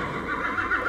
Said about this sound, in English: So I put horse in this castle and I can ride it